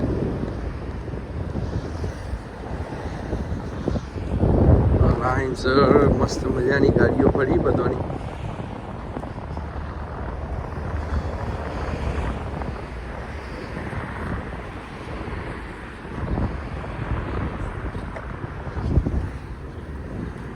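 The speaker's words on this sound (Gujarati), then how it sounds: "પવન જોરદાર ચડ્યો" Strong wind roars and buffets the microphone in heavy gusts while someone talks over it.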